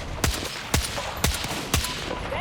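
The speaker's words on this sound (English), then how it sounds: "Hostile machine gun in sight." Enemy machine gun fire in a video game: four sharp, evenly spaced shots about half a second apart, moderately loud over a quiet background, with no talking.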